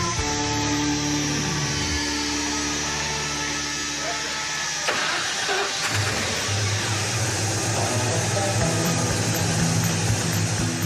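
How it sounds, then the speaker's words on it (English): A car engine in a restoration shop cranks, catches and settles into a steady running idle, loud and close, with a rougher surge partway through and some background shop noise. "The engine runs."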